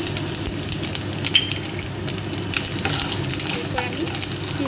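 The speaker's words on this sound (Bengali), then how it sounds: "এগুলো ভালোভাবে একটু ভেজে নেব।" Potato and eggplant pieces frying in oil in a pan make a steady, close, moderately loud sizzle with light crackles and occasional stirring.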